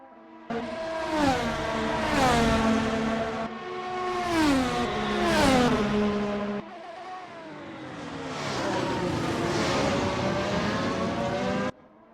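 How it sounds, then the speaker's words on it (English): A race car in a racing video game at Sepang accelerates out of the final corner, engine revving up through repeated gear sweeps, loud and close, then easing into a steadier drone. "Slowly applying the throttle, coming around the final corner to not give any additional wheel spin"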